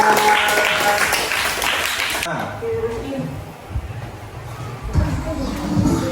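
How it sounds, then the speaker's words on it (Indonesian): Classroom of students clapping for a group during a lesson, a brief burst of dense applause that drops off after a couple of seconds, leaving room noise and a teacher's voice talking over the tail. "Benar, tepuk tangan untuk kelompok 3"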